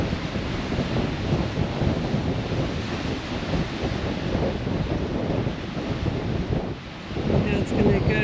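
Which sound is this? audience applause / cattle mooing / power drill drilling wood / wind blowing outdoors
wind blowing outdoors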